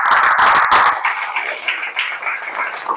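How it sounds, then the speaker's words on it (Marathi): A church congregation applauding loudly for Jesus at a worship service, heard as a dense burst of clapping that trails off into scattered, softer claps and crowd murmur. "आपण सर्वजण येशूसाठी जोरदार टाळ्या वाजूया."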